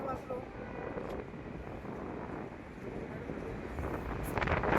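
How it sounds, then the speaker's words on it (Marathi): Strong, gusting wind blows across the microphone beside the Bhagirathi river on the road to Kedarnath, a steady broadband roar that swells near the end, with no voices over it. "खूप वारा आहे, बेफाट वारा."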